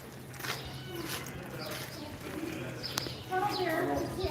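Pigeons cooing outdoors near Karnak Temple in Luxor while waiting to be fed, soft repeated coos with scattered chirps beneath a steady hum, and people talking over them.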